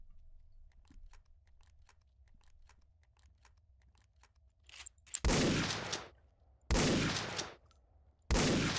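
Weapon firing flechette rounds in the ArmA 3 Unsung Vietnam mod: after faint ticking, three loud, close, blasting volleys ring out at about 5, 6.7 and 8.3 seconds, each with a long rushing tail.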